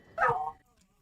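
Puppy in the video game Borderlands 4 giving a single short yip or bark, brief and close, with faint background sound around it.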